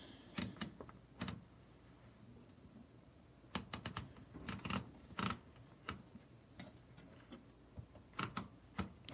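Typewriter keys strike in bursts of sharp clacks, with irregular clusters and pauses between, close and fairly quiet in a calm indoor setting with no talking.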